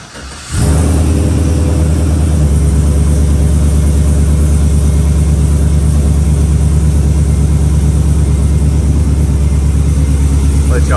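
A truck with a rebuilt rear end runs up on a lift, its engine catching just after the start and settling into a loud, steady, deep idle that drones on unbroken to the end.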